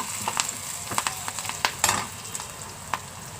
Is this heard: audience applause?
no